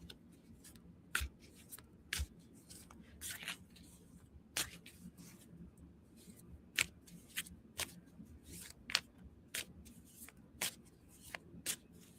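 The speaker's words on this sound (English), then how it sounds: "So my spirit team help me pick the cards." Tarot cards being shuffled and picked by hand, a quiet run of papery riffles and sharp slaps repeating at irregular intervals, close up and alone.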